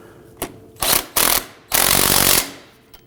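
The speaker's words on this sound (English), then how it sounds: "Get that nut started on the other side. Let's go ahead and tighten this down." A power tool rattles in short hammering bursts and then one longer run while driving the pinch-bolt nut on a 2008-2011 Ford Focus front lower control arm. The sound is loud and close, with no talk.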